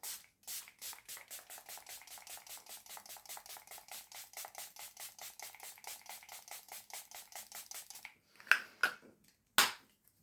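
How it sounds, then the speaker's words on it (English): A rapid series of short, regular hissing sprays of makeup setting spray, dozens in a row, followed by a few louder isolated bursts near the end. "So I'm gonna spray everything down using the Milani Make It Last original"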